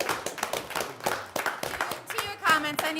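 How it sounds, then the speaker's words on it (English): An audience claps at a borough council meeting, with a series of sharp, fairly close hand claps in an uneven rhythm while people talk over them. "We're clapping."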